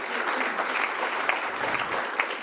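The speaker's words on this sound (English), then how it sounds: "A final round of applause for Friedrich and Priscilla for this initiative." A forum audience gives a final round of applause to two presenters, a dense, even wash of many hands clapping at moderate volume, sustained without pause and with no clear speech.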